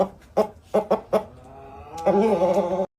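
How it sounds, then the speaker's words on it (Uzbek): A prize fighting rooster, winner of nine bouts, gives a few sharp clucks followed by one loud, close drawn-out crow that cuts off abruptly. "To'nka toj mana shu xo'rozim"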